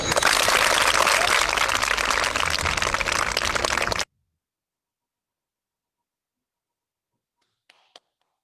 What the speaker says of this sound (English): Now all of you clap.